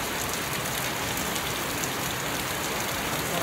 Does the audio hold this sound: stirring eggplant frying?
no